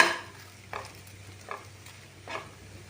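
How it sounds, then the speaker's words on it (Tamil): Bread slices frying in a pan for a custard pudding give a quiet, steady sizzle, with a few soft stirring or scraping strokes at regular intervals and no voices. "இந்த ப்ரெட்டெல்லாம் வந்து நம்ம ஃப்ரை பண்ணி எடுத்துக்கலாம்"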